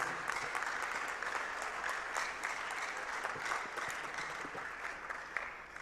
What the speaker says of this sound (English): I want us to celebrate Kumasi, Koforidua, and Tamale with a big round of applause.